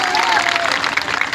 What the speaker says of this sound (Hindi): एक बार ताली बजाएं इनके लिए